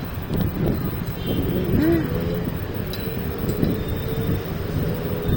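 Strong morning wind in the City of Pines buffets the microphone with a continuous low rumble, while voices talk faintly underneath.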